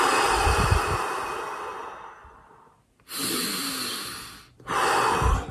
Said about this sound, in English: It's 5 deep breath in, nose in, mouth out, to the belly.